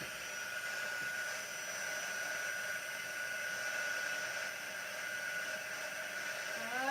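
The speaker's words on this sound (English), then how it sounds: "Let's hit it with the dryer." A hair dryer blows steadily at close range, heat setting ink, a continuous whooshing roar with a faint high whine, holding level for several seconds.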